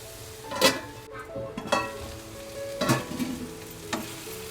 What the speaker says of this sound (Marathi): असा व्यवस्थित चांगला ना कांदा टमाटर परतून घ्यायचा